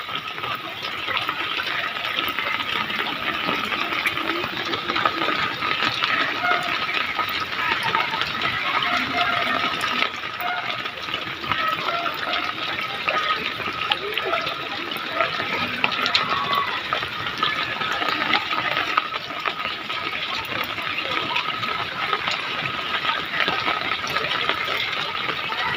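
Floodwater from Typhoon Carina rushes and gushes around a stone house in a continuous, steady wash of water noise with no break.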